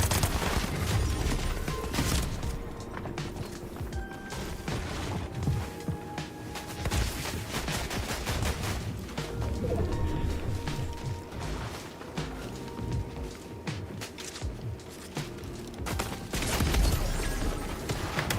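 Scattered gunshots and impacts in a ranked competitive video game fight, irregular sharp bursts and clatter spread across a busy game soundscape with tonal effect sounds, no talking.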